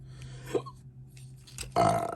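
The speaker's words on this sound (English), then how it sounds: "Burp City." A loud, drawn-out burp rises after a brief pause, preceded by a couple of small clicks and rustles from someone handling a Transformers toy figure.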